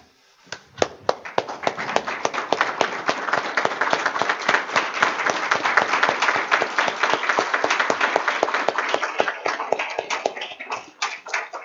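Standing ovation at a school board meeting: dense, loud, sustained clapping from many people, swelling through the middle and thinning toward the end, with little talk over it.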